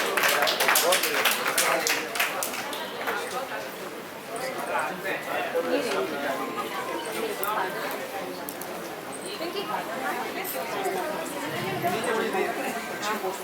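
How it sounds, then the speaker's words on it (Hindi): Applause from an awards-ceremony audience honouring two young award recipients, a dense sustained patter of many hands clapping at fairly steady loudness, with crowd chatter mixed in throughout. "जोरदार तालियां"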